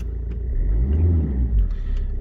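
An Alfa Romeo GT's engine idles close by, a steady low rumble with slight swells in revs over a couple of seconds, no voices.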